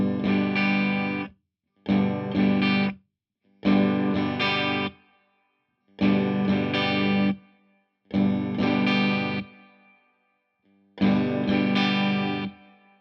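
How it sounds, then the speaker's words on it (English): An electric guitar plays through a Laney Lionheart L20H 20W all-tube amp, with reverb set from dry to fully wet. Six strummed, slightly driven chord phrases are separated by short silences, loud and close with no talking. "I'll do the same with the reverb so you can hear it"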